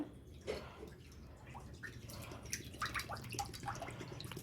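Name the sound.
cow's colostrum milk poured into a heavy kadai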